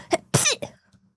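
A person imitates a sneeze with their voice, giving a short breathy build-up and then one loud burst that sounds more like half a cough, close and alone.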